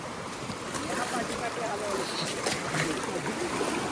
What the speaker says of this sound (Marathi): आता बघू शकता तुम्ही एकदम स्पीड पाणी आहे, फुल स्पीड